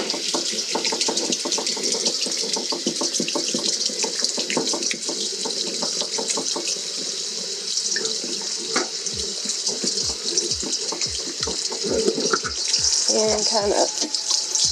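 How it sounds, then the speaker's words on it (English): A steady stream of tap water rushes into a sink over dandelion roots in a strainer, with a brief voice and some clattering underneath. "I'm just going to run water over them"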